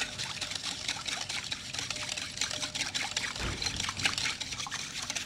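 Milk poured into a bowl for a Turkish soft cake batter, a steady soft liquid stream and trickle running throughout at low level, with no talk.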